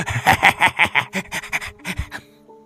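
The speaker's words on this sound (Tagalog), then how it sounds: "Mukhang hinihingal ho kayo, Tatang." An old man pants heavily in quick, rhythmic breaths, loud and close, slowing and breaking up toward the end, with no talk over it.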